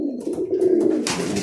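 A pigeon, a red splash cock being shown as a muffed or grouse-legged breed, gives a short, close, resonant coo lasting just over a second, with soft rustling behind it.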